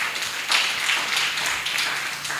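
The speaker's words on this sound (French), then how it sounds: "Je voudrais qu'on puisse applaudir très fort pour elle" Audience at a talk on the education and care of disabled children claps, a brisk, close patter of many hands with rhythmic swells that keeps going steadily to the end.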